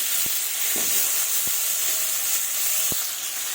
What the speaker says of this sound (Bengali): এবার এর মধ্যে আলুগুলো ছেড়ে দেব।